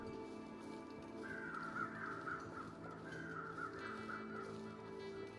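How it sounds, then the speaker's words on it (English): Weather crows cawing in The Long Dark, a run of harsh caws repeating over a steady wind-like ambient bed, moderately distant and alone without talk. "it's weather crows, alright."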